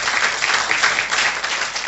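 Congregation clapping together at an Ascension Day church service, a steady dense wash of applause that holds evenly throughout with no voices on top.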